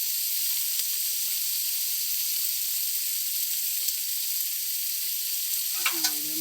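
Chopped banana flower frying in a pan with salt and cumin powder, a loud steady hiss of sizzling oil running throughout, with a brief stir and clink near the end, close by and with no voices.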